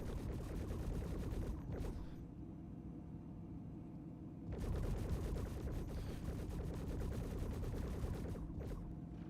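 Sustained rapid gunfire rattles through a video game firefight, dense bursts with a short lull in the middle before the shooting resumes loud and continuous.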